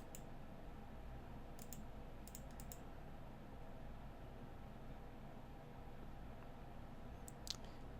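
Faint, sparse clicks of a computer keyboard, a few quick taps in short bursts separated by long quiet gaps over a low hiss.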